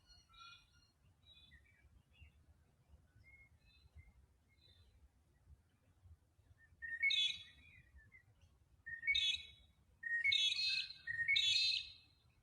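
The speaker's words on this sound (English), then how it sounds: "Nice to hear the birds in the morning chirping away." Birds chirp away in the morning outdoors: soft scattered tweets at first, then four louder, sharper bursts of song toward the end, set against a quiet low background hum.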